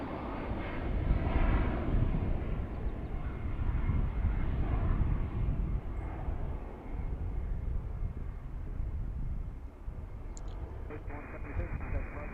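An airliner takes off from Allentown airport, a loud, broad engine roar that swells and then slowly fades, with a person talking over it.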